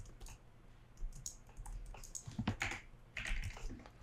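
Typing on a computer keyboard produces irregular bursts of close, crisp key clicks with short pauses between, quiet and without talk.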